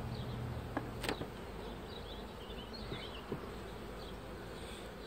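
Honeybees at an open hive during a colony split, a faint soft buzz with a few individual bees passing close by in brief louder bursts over a quiet background.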